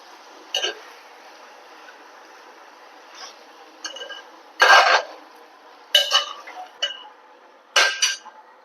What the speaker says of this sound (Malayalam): ചിക്കൻ ഒന്ന് ഇളക്കി കൊടുക്കുക